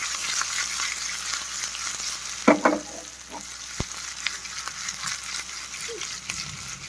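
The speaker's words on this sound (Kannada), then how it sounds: "ಹಸಿಮೆಣಸು ಒಂದು ಸ್ವಲ್ಪ ಫ್ರೈ ಆದಮೇಲೆ ನೋಡಿ, ಇನ್ನೊಂದು ಸ್ವಲ್ಪ ಫ್ರೈ ಆಗಬೇಕು ಹಸಿಮೆಣಸು." Green chilies and urad dal fry in a pan for a Havyaka-style brinjal dish, a steady close sizzle with a few sharp scraping stirs and clinks partway through, and no voices.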